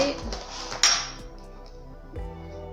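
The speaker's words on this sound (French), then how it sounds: "On racle la marise sur le côté." A spatula scrapes chestnut cream mousse off the side of a bowl, giving a few close, soft clinks and scrapes against the bowl in a quiet kitchen.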